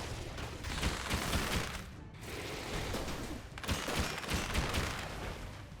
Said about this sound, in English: The cannon keeps interrupting the boss.